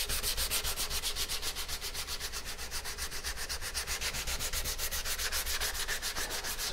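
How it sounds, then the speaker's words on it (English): Rhythmic hand sanding with fine 150-grit paper rasps back and forth along the grain of a wooden paddle in quick, even strokes, close and continuous, with no voices. "So this is the final sanding."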